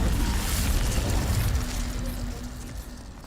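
Incendio fire spell cast in Hogwarts Legacy, a loud low whooshing burst of flame that roars and slowly fades over a few seconds, with no talk.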